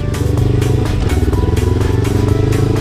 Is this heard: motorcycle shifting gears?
yes